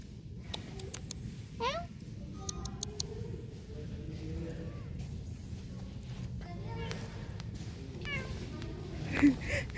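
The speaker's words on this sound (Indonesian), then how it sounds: "Ada kucing." A cat meows a few times at a construction site, short faint cries scattered over steady background rumble and distant voices talking.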